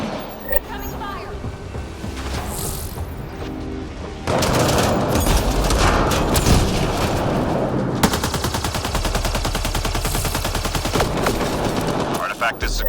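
Sustained automatic gunfire in a video game, loud and dense with rapid bursts, over an in-game voice and background rumble.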